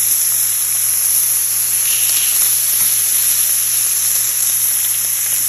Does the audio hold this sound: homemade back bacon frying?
yes